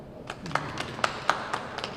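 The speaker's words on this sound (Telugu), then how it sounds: "చప్పట్లు కొట్టాలి మీరు" A small audience at an art exhibition event gives scattered handclaps, about eight sharp, uneven claps over two seconds, fairly close and moderately loud, with no talking.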